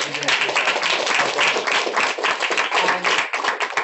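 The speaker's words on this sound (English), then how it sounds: "Can we give him a round of applause?" Clapping from a small audience at a business training meeting, fairly close and uneven, with individual claps standing out and some talk beneath.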